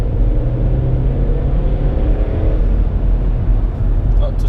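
A Volkswagen Polo Mk5 1.2 TSI Bluemotion engine drones loudly with climbing harmonics as the small hatchback accelerates, heard from inside the cabin with some road rumble and someone speaking over it.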